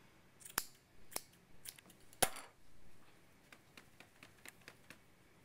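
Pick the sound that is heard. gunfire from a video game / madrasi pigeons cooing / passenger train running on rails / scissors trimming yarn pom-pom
scissors trimming yarn pom-pom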